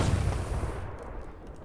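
Cannon fire in the video game Holdfast, one heavy booming blast at the start that rolls off into a fading low rumble, loud and close with no talk.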